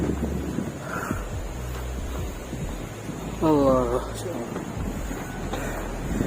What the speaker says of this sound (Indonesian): Alhamdulillah angin sudah masuk kembali.